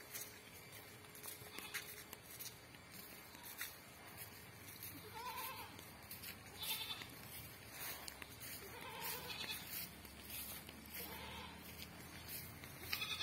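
Goats at home in a yard with banana plants bleat several times at moderate distance over a steady outdoor background hum, with no talk.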